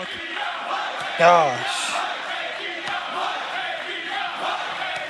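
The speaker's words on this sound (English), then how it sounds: "NXT crowd's loud tonight for sure." A loud wrestling crowd at an NXT event roars steadily in a big arena, with a swell of shouting and cheers near the start, while a commentator briefly speaks over the din.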